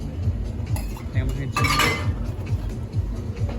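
Glassware clinks softly and repeatedly as a gin-based cocktail is mixed, small taps and a brief stirring rattle near the middle, under a low background hum with people talking.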